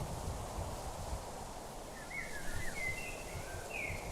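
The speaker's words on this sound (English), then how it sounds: "it sounds like autumn up here. It really does. Windy. Sounds cold." Steady wind blowing through a Minecraft game world, a continuous broadband rush with faint, brief high chirps drifting in over it, with no one speaking.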